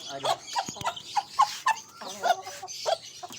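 A mother duck in a backyard aviary calls out in a quick series of about eight short, nasal, honking cries, close by and fairly loud, with brief gaps between them.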